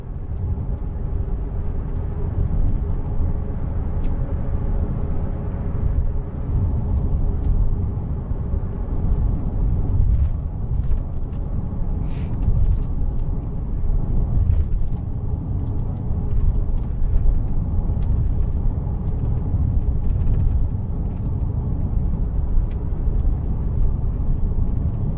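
A car driving on a road in Peru, heard from inside, gives a steady low engine and road rumble that stays even and fairly loud throughout, with no voices.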